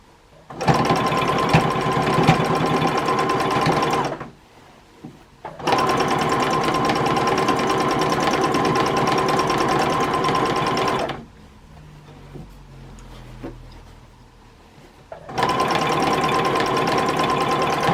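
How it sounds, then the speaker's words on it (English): A sewing machine doing free-motion quilting on a Dresden plate block stitches in long rapid runs, its needle chattering in a fast mechanical rhythm with slight resistance through the fabric, pausing twice with quiet handling noises between bursts. "You can hear the needle going through with slight resistance."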